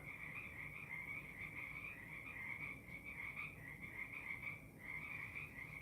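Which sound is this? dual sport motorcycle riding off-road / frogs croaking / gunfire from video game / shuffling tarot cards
frogs croaking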